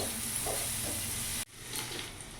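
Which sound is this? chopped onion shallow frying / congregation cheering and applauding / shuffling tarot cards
chopped onion shallow frying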